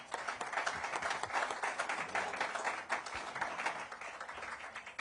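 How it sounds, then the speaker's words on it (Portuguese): Clapping fills a press-conference room with Brazilian President Lula in Tokyo, a continuous mass of many hands going at a steady level for several seconds with no speech on top. "Vou bater palmas."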